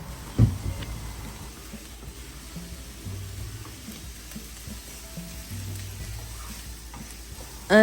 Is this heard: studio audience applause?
no